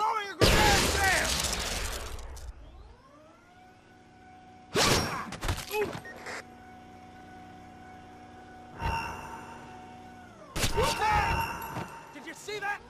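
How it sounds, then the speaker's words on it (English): A grenade explosion in the video game Splinter Cell Conviction, a loud booming blast followed by ringing tones and several further bursts of explosive noise and gunfire, with game characters shouting in between. "He's throwing a grenade there!"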